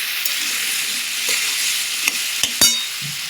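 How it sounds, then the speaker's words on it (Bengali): Ginger stir-fried in a pan for papaya curry, a steady close sizzle of frying with a few sharp scrapes and knocks of the spatula near the end. "আদাটা দিয়ে আমি নেড়ে চেড়ে"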